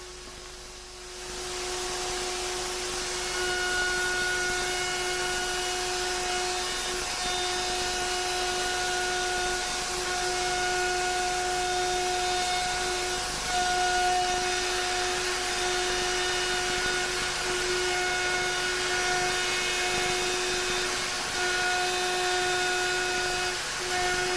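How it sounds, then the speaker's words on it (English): A router fitted with a bearing-guided chamfering cutter spins up and runs steadily while forming a chamfer on a circular wooden stool top, a loud continuous high whine with no talk. "Using a similar setup and a bearing-guided chamfering cutter, a chamfer is formed on a circular stool top."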